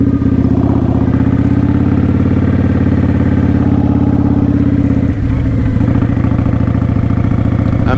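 Motorcycle ridden in first gear during a Sunday practice ride, its engine a loud steady drone throughout with a brief dip and change in tone near the end, no talking.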